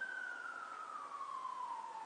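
A single wailing siren tone slowly falls in pitch, heard at a moderate distance, continuous and alone without any talking.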